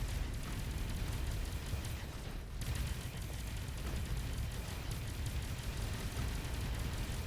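Space combat in the game Avorion, with a dense, continuous roar of cannon fire and explosions that stays loud and steady throughout, with no speech.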